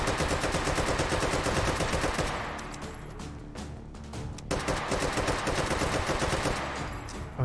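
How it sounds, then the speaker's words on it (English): Rapid automatic gunfire in the VR shooter game Hot Dogs, Horseshoes and Hand Grenades during a speedrun race: loud continuous bursts, a brief lull with a few isolated shots, then sustained firing again. "A little bit of controlled shots now."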